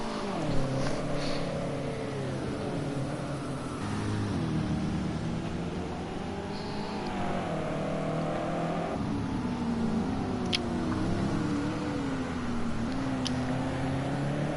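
A Hankook-sponsored race car in Le Mans qualifying, its engine note rising and falling through gear changes as it runs past, moderately loud with a steady undertone of other engines.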